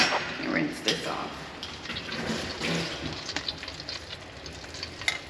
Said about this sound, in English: fry these shrimp very quickly, because it does not take much or long to fry shrimp